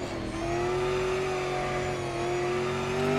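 A race car engine in Grid Autosport at Brands Hatch holds a loud, high, buzzing note that climbs slowly under acceleration, with steady road rumble beneath and no talking.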